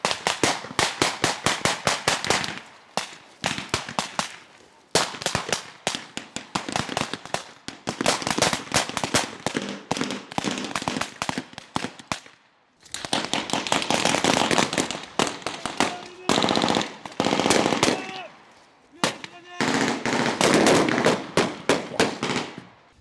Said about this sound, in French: Je sais que c'est des balles à blanc, mais ça fait quand même très très peur.